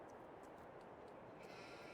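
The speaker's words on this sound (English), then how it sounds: "They are such well-behaved sheep." Sheep bleating on a farm in a farming roleplay video game, several soft, faint bleats repeating at an easy pace over a quiet, steady background with no talking.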